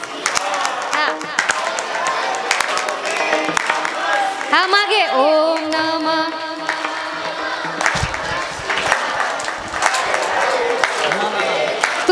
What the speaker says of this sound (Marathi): टाळी वाजवा आणि म्हणा ओम नमः शिवाय.